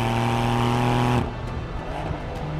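A modern performance sports car that sounds like an old 911 Turbo, its engine holding a loud, steady harmonic drone for about a second before abruptly cutting to a lower, rougher rumble as it passes or lifts off.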